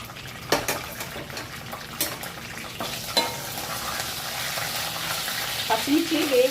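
Green chillies fry in hot oil in a pan for paneer biryani, making a soft, steady sizzle. Sharp clacks and scraping stirs break in at irregular moments, and the sizzle swells slightly toward the end.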